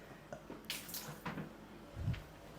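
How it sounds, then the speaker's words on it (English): Fresh mineral water is poured into a bung in a few intermittent gushes and splashes, fairly close but soft, ending in a low gurgling slosh. "fill up this bung with some fresh water"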